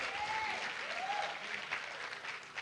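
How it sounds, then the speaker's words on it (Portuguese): A church congregation applauds during a worship service, a fairly soft, even spread of clapping at a distance, with a faint voice or tone drifting over it. "Dê uma salva de palmas para Jesus."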